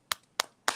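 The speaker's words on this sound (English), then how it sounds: "round of applause" A few claps from a talk-radio studio audience, heard as three sharp, separate hand-claps evenly spaced about a third of a second apart, close and moderately loud with no voices.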